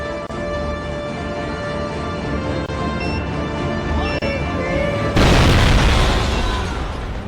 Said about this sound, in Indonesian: Bom pun meledak dengan cukup dahsyat